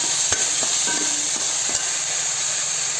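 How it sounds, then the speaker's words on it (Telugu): Goat head curry being stirred with salt in a pan, Telangana style, a steady loud sizzle with a few scraping stirs of the spoon, close and alone without talk. "కొద్దిగా దీంట్లో ఉప్పు వేసి బాగా కలపాలి."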